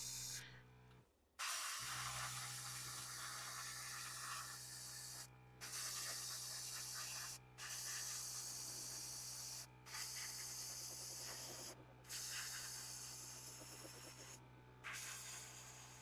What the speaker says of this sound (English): I think I've used the wrong airbrush, really.